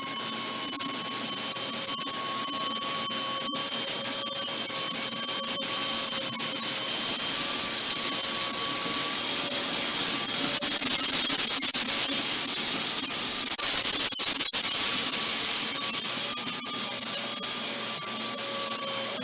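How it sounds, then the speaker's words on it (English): A Dyson Cinetic Big Ball Animal vacuum runs in a steady loud whine with a high airy hiss, sucking up split green peas and other debris during a roughly ten-second pass, with faint rattles of particles being pulled in. "We ran the vacuum over it in about a 10-second pass or so"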